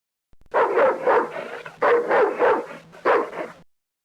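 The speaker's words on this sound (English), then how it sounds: "Doberman Pinscher." A Doberman Pinscher from the Microsoft Dogs game gives a run of close, loud barks, in three clusters of two or three sharp woofs each, with short pauses between clusters.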